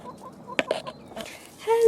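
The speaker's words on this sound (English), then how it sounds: "The chickens are so excited" Farm chickens on a spring morning give a few short, nearby clucks and soft calls in quick bursts, with a brief higher squawk at the end.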